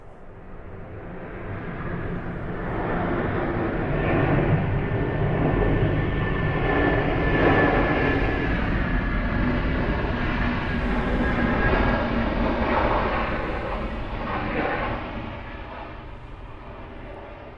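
An airliner taxis at Atlanta's airport, a steady jet engine roar and whine that swells in the middle and slowly fades, heard from a distance with no talking.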